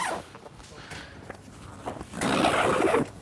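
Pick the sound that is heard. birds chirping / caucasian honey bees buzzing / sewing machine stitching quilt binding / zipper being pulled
zipper being pulled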